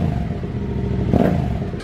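A motorcycle engine fitted with an aftermarket Camel ADV high exhaust kit runs loud and close with a throaty exhaust note, swelling briefly in a short rev before settling back.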